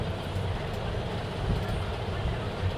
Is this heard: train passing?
yes